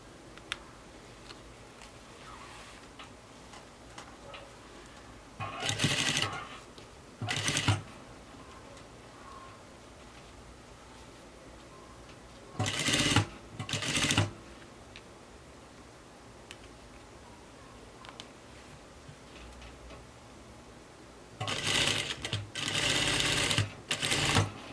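A sewing machine stitches the facing of a button-front circle skirt in short bursts of rapid mechanical whirring, with quiet pauses between runs and a longer run near the end.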